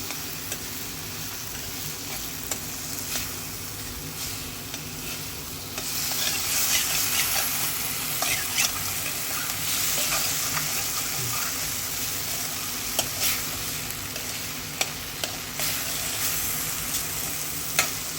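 Okra cooking in a yogurt curry in a pan, a steady bright sizzle with scraping stir strokes that grow louder and busier midway, close by, with no one speaking.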